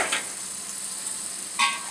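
Butter, about 10 to 20 grams, melts in a pot with a steady soft sizzling hiss, broken by two brief metallic clinks of a utensil against the pot.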